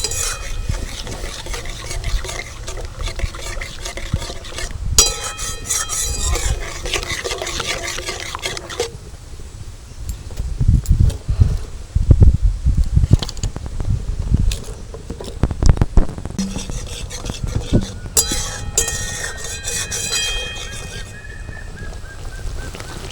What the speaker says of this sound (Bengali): সব কিছু দিয়ে একসাথে এটাকে ভালো করে একটু কষিয়ে নেব